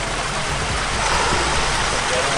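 Cold water runs in a loud, dense, steady rush close by, with no break across the short stretch while a voice talks underneath.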